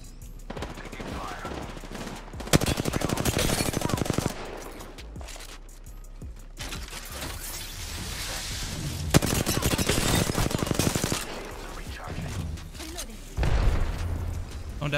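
Apex Legends gunfire from a Wattson player's Season 9 match comes in long rapid automatic bursts with booming hits, loud and close, broken by brief pauses, with game voice lines underneath.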